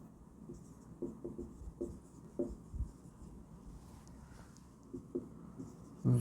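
Chalk or a marker scratches and taps on a board during a class 9 physics lesson, several short uneven strokes at low level with quiet pauses between them.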